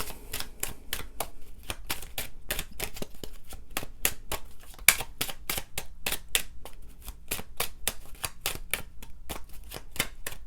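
Tarot cards being shuffled and pulled, a rapid run of crisp riffling clicks and snaps, close and fairly quiet, continuing in an irregular rhythm throughout.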